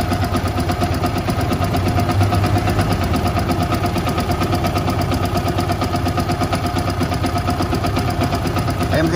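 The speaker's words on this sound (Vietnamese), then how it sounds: "Cho anh em nghe tiếng máy này." A Yamaha R15 V1 motorcycle engine idles steadily up close, a rapid even putter with a low throb that holds constant throughout.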